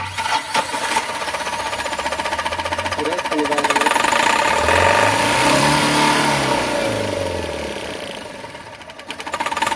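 A Tata diesel engine with a missing, low-pickup fault revs up and settles back, a rough knocking mid-range drone rising and falling with throttle, heard up close.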